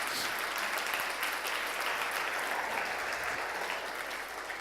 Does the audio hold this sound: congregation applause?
yes